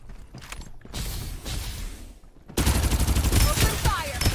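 Rapid automatic gunfire crackles in dense, loud bursts during a Farlight 84 match, starting with scattered shots and mechanical clicks and then erupting into a continuous close fusillade, with brief speech mixed in.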